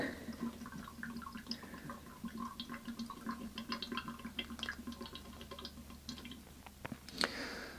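Fork oil from Suzuki GSXR 750 SRAD K6 forks pouring out in a thin trickle with irregular drips and small ticking splashes, fairly quiet and steady throughout, ending with a sharper clack.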